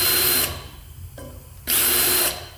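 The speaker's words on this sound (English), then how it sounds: "after I get finished drilling the holes, I come in with a deburr on the end of my drill" A power drill fitted with a deburring bit chamfers drilled holes in brake rotors, making two loud whirring bursts separated by a quieter pause, close by and with no voices.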